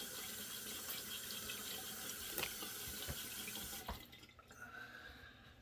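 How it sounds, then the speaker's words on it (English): Tap water runs steadily from a faucet for a quick rinse after a head shave, a continuous close splashing stream that cuts off near the end, leaving a quieter trickle. "So I do a quick rinse."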